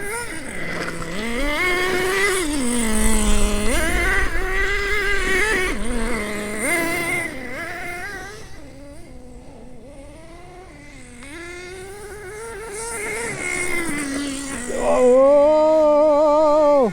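Vintage Associated RC10GT nitro RC car engine screaming at high revs with rising and falling pitch sweeps as it accelerates and slows, loud and continuous throughout, easing briefly midway before surging again near the end.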